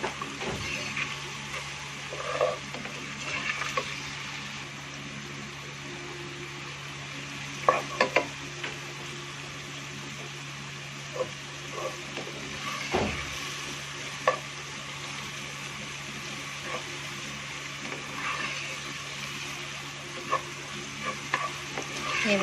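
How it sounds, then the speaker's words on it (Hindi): Garlic ginger paste and green chilies fry with lightly browned onions in a pan, a steady low sizzle broken by occasional stirring scrapes and clinks of a spoon, with no talk. "अब हम इसमें ऐड करेंगे लहसुन अदरक का पेस्ट, और साथ में ग्रीन चिली।"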